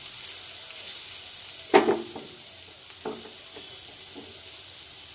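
Rajma curry mixture frying in a pan, a soft steady sizzle with occasional sharp scrapes and knocks of a spoon stirring, close by.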